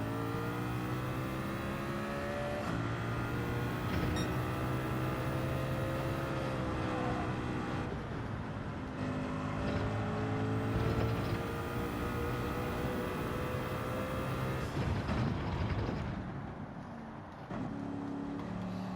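A Mercedes race car in Gran Turismo 7 lapping the Sardegna Road Track, its engine droning loudly and continuously as it revs up through gears, with a brief lift and drop in pitch near the end.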